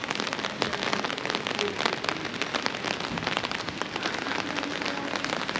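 Rain falls steadily on a street in Nuremberg, a dense, even patter of drops striking pavement and hard surfaces nearby, continuous and fairly loud with no voices.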